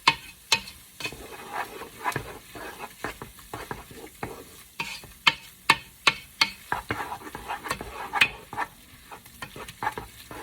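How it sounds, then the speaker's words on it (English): Vegetables coated in tomato paste cooking down in a pot for a seafood bisque, with steady close stirring scrapes and clicks over a soft sizzle, no talk. "We're gonna get that tomato paste to coat all of the vegetables, and it's already started to do that as we cook this down."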